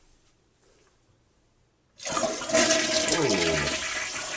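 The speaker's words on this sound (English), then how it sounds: "That's a powerful flush" A newly installed toilet in a mud room flushes powerfully: after near-silence a sudden, loud, close rush of swirling water that keeps roaring to the end, with a brief exclamation from a person.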